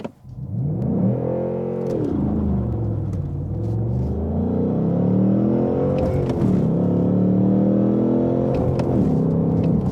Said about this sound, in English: we had a little bit of wheel spin, but still was a lot of fun